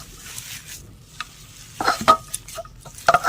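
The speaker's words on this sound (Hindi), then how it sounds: "अब इस तरह से हम मिक्स कर देते हैं। मिक्स कर लेते हैं मिर्ची धनिया को।" Chopped chilli and coriander are stirred together in a bowl for dahi bada, giving close, uneven scraping and clinking strokes that grow busier and louder toward the end, with no talking.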